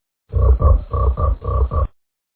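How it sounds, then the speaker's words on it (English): A deep, throaty frog croak repeated in a quick run of about six pulses, loud and close, then silence. "Frog, wow, very nice."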